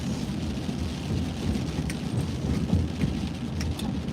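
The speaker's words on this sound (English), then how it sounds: "it's pouring rain" Heavy pouring rain falling steadily outdoors at night, a dense continuous hiss and patter with a low rumble underneath, with no talking.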